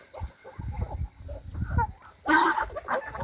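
Turkeys and chickens feed at a shared trough on a farm in the morning, with scattered clucks and gobbling over a busy ambient murmur and a louder burst of squawking near the end.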